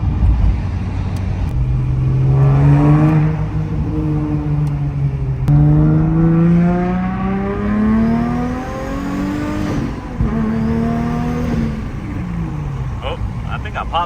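A twin turbo Nissan 350Z pulling hard through the gears, its loud engine note rising in pitch, dropping at each shift and climbing again, heard close from inside the car.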